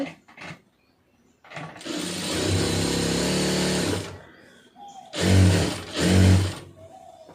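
Stitching a cigarette pant, a sewing machine hums in one sustained run of a few seconds, then two shorter, heavier bursts follow after a pause, all close and fairly loud.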